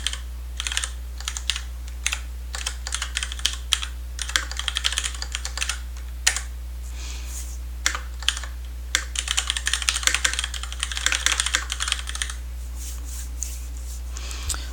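Typing on a computer keyboard, steady clusters of close, crisp key clicks in quick irregular bursts with short pauses, over a low constant hum.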